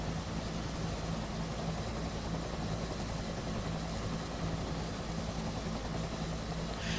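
UH-1 Huey helicopter hovering in DCS World, a constant close drone of turbine and rotor with a steady low throb underneath, unbroken for the whole stretch without any talk.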